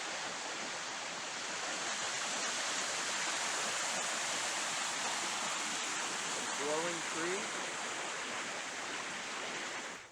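A creek in Washington rushes steadily, a broad, even hiss of flowing water that fills the whole stretch while someone briefly speaks over it.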